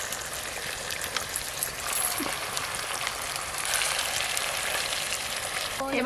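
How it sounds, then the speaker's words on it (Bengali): Fish pieces coated in masala fry in a pan with a steady, close sizzle that runs the whole time, broken only by faint spoon or pan clinks, with no talking. "এই দেখুন মশলা সমেত মাছগুলো একটু হালকা হালকা ভাজা হয়ে গেছে"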